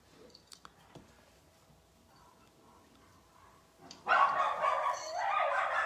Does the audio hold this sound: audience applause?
no